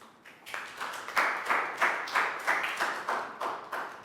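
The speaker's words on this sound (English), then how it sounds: "High five and a big round of applause for Ned." Children in a classroom give a round of applause, about a dozen quick, fairly quiet claps in a steady rhythm with no talking.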